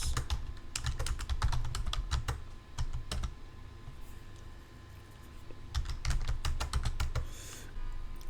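Quick bursts of keystrokes on a computer keyboard, close and crisp, come in two clusters separated by a short pause over a low steady hum, with no talking.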